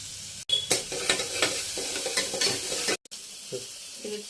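Garlic sizzles in hot oil in a pan for a mixed dal and potato amti, with a bright steady fizz and repeated scraping stirs, briefly cut off, then resuming more quietly.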